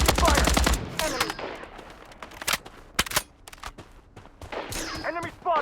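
Gunfire in the Blood Strike battle royale video game, an opening rapid machine-gun burst followed by scattered single shots and short bursts, sharp and loud against quieter game ambience.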